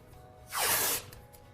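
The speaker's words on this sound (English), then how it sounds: "First step is applying some blue tape to create my line." Blue painter's tape is pulled off the roll for application to an apartment wall, producing a single quick bright tearing rip that lasts about half a second, close and isolated in a quiet room.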